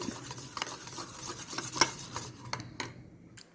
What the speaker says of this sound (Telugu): చూసారా ఇలా కలుపుతుంటే ఇవన్నీ కరిగిపోతాయి